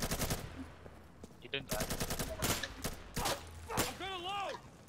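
Gunfire in the Insurgency shooter game, with rapid automatic bursts and sharp single shots in uneven clusters, while a player speaks briefly over the shooting.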